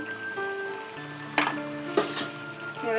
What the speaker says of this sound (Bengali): নেড়ে ভালো করে মশলাটা কষে নেব